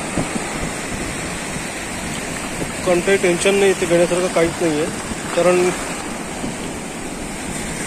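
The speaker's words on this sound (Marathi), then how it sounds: "आता मी वाळूवरती उभा आहे आणि माझ्या पायाखाली लाटा येते" Sea waves washing onto a sandy beach, a steady roar of surf with wind buffeting the microphone, while someone talks close by in the middle.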